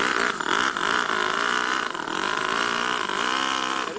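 A radio-controlled crawler car powered by a two-cylinder four-stroke engine climbs under load, the small motor buzzing loudly and continuously with slight rises and dips in pitch as the revs shift.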